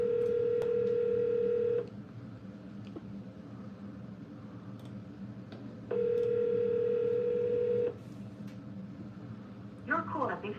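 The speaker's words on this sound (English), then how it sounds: "let's give this phone number a shot" Ringback tone of a telephone during a live real-estate cold call to a motivated seller: two long steady electronic ring bursts separated by a pause, fairly clear over a quiet background, with a brief faint noise at the end.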